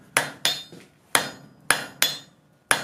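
A hammer forges a steel bar on the horn of an anvil, drawing it down toward a quarter-inch square. Sharp, ringing metallic strikes land close up, about six blows at an uneven rhythm, each ringing briefly before the next.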